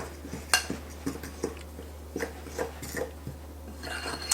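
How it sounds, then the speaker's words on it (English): Spoon scraping and clinking in a bowl while stirring a pecan pie kolache crumble mixture with nutmeg, a series of short, soft, irregular scrapes over a low steady hum. "I'm just gonna stir those together until it becomes this crumbly mixture."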